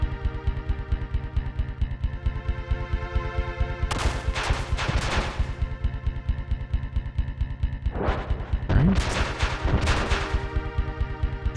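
Rapid bursts of turret gunfire from the SNES video game Chrono Trigger crackle over steady looping game music, with two dense clusters of shots partway through.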